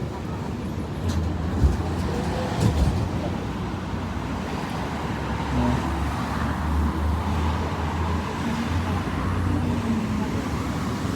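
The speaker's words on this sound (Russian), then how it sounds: "Сегодня на трамвае" Steady low rumble of a moving tram heard from inside, with a constant hum and occasional clunks and rattles over about eleven seconds.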